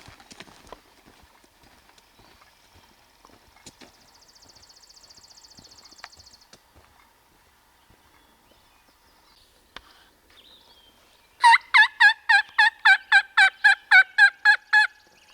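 Wild turkeys gobble in the distance on open hunting ground: about a dozen loud, rapid bursts in a quick rhythmic series, after a long quiet stretch of faint outdoor ambience and a soft hum.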